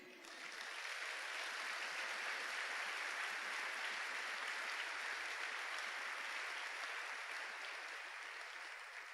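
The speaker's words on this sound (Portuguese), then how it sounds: "Você pode aplaudir?" A congregation claps in response to a pastor during a Portuguese sermon, a broad, even wash of applause sustained for around nine seconds, moderately distant and without voices over it.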